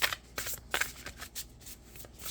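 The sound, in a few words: tarot cards being shuffled and drawn from deck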